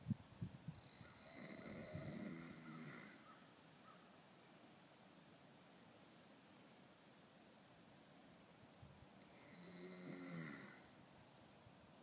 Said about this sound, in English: I think he's snoring.